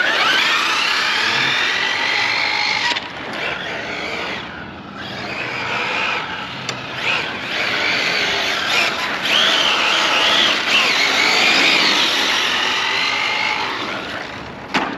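Electric motor of an Arrma Felony R/C car drifting at night, a thin high whine rising and falling in bursts with brief gaps as the throttle is worked.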